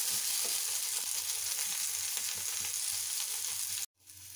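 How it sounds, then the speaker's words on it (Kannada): Chicken gravy ingredients frying in a pan for a village-style dish, a steady broadband sizzle that runs unbroken and close, then cuts out abruptly near the end before a softer hiss returns. "ನೋಡಿ, ಈಗ ಇದಿಷ್ಟು ಫ್ರೈ ಆಗ್ತಿದೆ."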